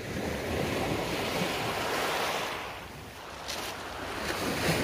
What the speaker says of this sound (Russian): И вот таким образом река попадает в море.